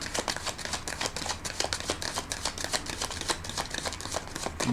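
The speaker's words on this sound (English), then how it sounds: "I'm going to put one more shuffle and one more rifle on the cards." Tarot cards are shuffled and riffled in a steady run of quick, soft papery flutters and snaps, close and fairly quiet, with no talking.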